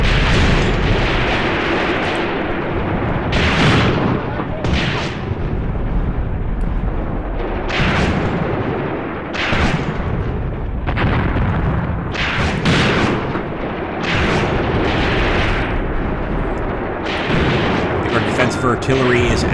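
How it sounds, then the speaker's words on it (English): Artillery fire in the war game Graviteam Tactics: Mius Front: loud, repeated booming blasts and shell bursts roll in at irregular intervals over a constant rumbling battlefield din for the whole stretch. "Artillery is absolutely winning us the battle here, guys."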